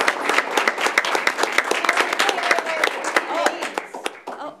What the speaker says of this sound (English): We could just give a round of applause to our amazing host teachers.